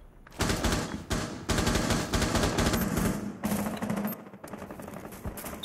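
Rainbow Six Siege gunfire, rapid automatic bursts strafing in several loud close volleys separated by short pauses, with sharp crackling reports throughout.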